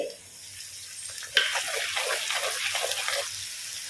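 Mackerel fish frying in oil makes a steady, close hiss with light crackle and bubbling, alone for a few seconds and rising slightly after a brief clatter.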